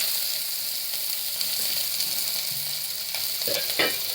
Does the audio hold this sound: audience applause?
no